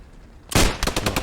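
Loud, close machine gun burst in the World War II shooter Post Scriptum: one heavy opening shot, then a rapid rattling string of rounds, alone without voices.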